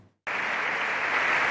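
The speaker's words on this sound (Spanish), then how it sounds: "Algunos han aplaudido, otros no." Applause suddenly breaks out in the Spanish Congress of Deputies at the 40th anniversary of democracy, a dense burst of clapping from a large crowd after a brief quiet moment.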